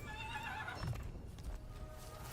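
A war horse neighs in the Total War video game, a strained whinny with game-battle ambience and hoof-like clip-clop sounds underneath, close and moderately loud.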